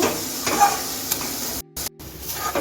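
Date-palm jaggery filling for Bhapa Kadam Phool pitha stirred in a pan over low gas, a soft steady scrape and faint sizzle close by with two brief dropouts near the end.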